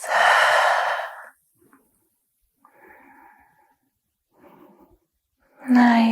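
During a yoga stretch, a long audible breath fills the first second, followed by softer sighing exhales spaced through the quiet, and another strong breath at the end.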